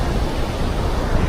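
Strong surf at Diniwid Beach, Boracay, makes a loud, continuous broadband wash of breaking water, with no voices over it.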